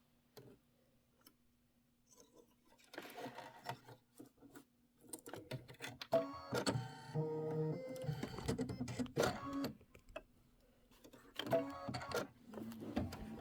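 Embroidery machine stitching flamingo legs on a Kimberbell mini quilt, a fast mechanical ticking and whirring that starts faint, then runs steadily in close bursts with brief pauses.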